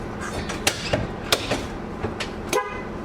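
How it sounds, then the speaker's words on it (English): Bus horn tested during a pre-trip inspection of a conventional bus, sounding in several short, sharp toots spaced irregularly over a low idling background. "The steering wheel controls and the horn."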